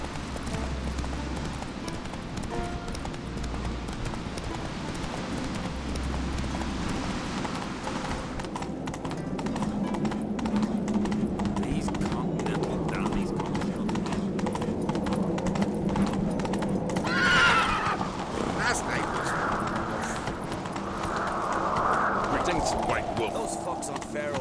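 Horse hooves gallop in The Witcher 3, a steady rhythmic clip-clop running through the whole stretch at moderate loudness, with voices and game ambience underneath.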